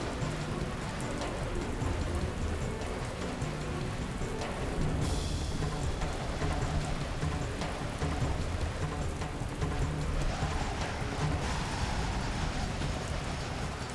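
Heavy rain pours down steadily in a storm, a dense continuous hiss of drops drumming on surfaces at close range, with a brief brighter burst of spray midway and no voices.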